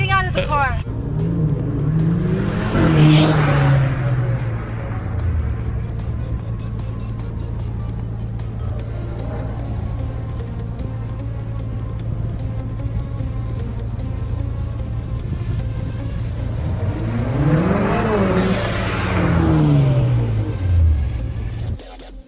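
Alfa Romeo Giulia fitted with a EuroCompulsion V2 intake, engine rising in two revving or drive-by swells with a steady idle drone between them, moderately close.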